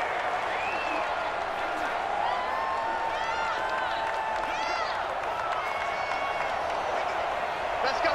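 Stadium crowd roaring steadily through a football game as the home crowd drowns out the offense's snap count, with whistles and whoops rising over the dense wash and commentary voices faintly underneath.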